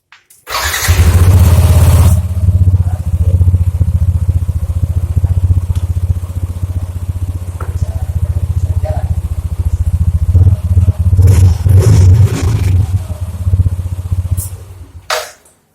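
A motorcycle engine, just home-serviced and cleaned with a hairdryer, cranks and catches, then idles loudly and close for about fifteen seconds with a few light revs and clatter before cutting off.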